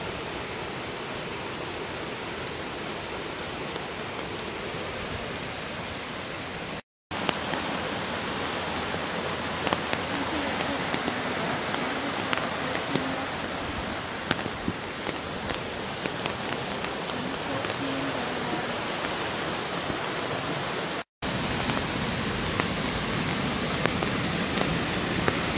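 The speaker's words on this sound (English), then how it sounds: "Codornices Creek waterfall in a secluded," Codornices Creek waterfall pours after rains in a secluded canyon in Berkeley, a steady, dense rushing hiss of falling water that holds constant throughout, broken only by two brief cuts.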